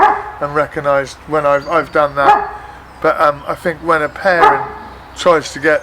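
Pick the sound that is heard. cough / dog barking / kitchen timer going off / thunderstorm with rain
dog barking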